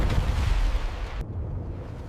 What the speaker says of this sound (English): The roar of her cannon echoed across the battlefield as the ground was torn apart once more.